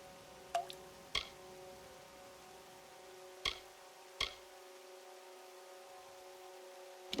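Sharp, isolated water drips fall from a ceiling in a chilled stone castle corridor in the video game Kingdoms of Amalur: Reckoning, four distinct drops at uneven intervals over a quiet, faint ambient hum.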